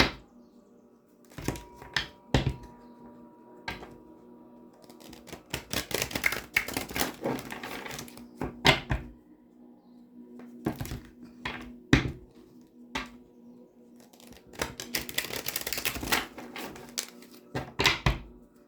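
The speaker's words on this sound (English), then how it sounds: "Let me get you some good shuffles in" Quick, crisp clattering bursts of tarot cards being shuffled, coming in several rapid riffles with short pauses between them, close and fairly loud.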